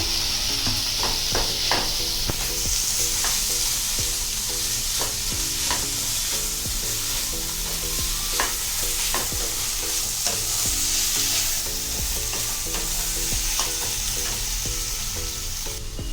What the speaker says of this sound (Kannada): ಇವಾಗ ಕಡಲೆ ಹಾಕೊಳ್ಳೋಣ. ಮಸಾಲೆ ಫ್ರೈ ಆಗಿದೆ.